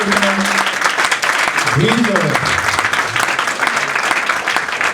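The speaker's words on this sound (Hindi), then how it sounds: "जोरदार तालियां बजाएं" Congregation applause fills a church service, a dense wash of clapping heard close and loud, with a voice briefly rising over it near the middle.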